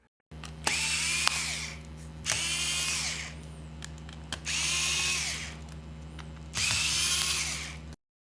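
Power screwdriver backing out motherboard screws on a Dell 3100 laptop: four separate high whirring bursts, each lasting about a second, close and alone over a low steady hum.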